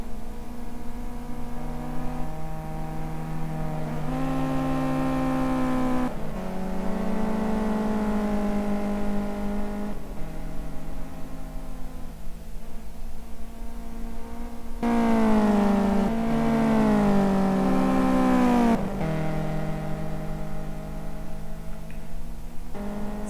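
A race car engine in the Simraceway racing video game, Evo 700-800 class, revs hard and steadily. It drops in pitch on downshifts and climbs again under throttle, the sustained loud drone rising and falling over the whole stretch.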